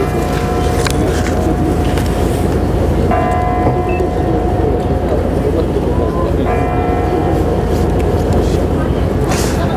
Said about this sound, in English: the chimes have struck, it's after five, the Kremlin is closing.